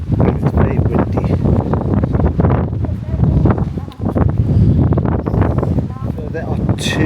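Strong wind buffets the microphone at a tourist spot by a monk's tomb on a Vietnamese island, a loud rumbling roar with gusty surges and a brief lull midway.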